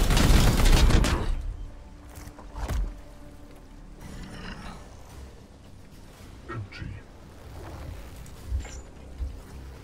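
Burst of gunfire in the video game Warhammer 40k: Chaos Gate - Daemonhunters, a loud volley at the start followed by scattered sharper shots and impacts over a steady game background.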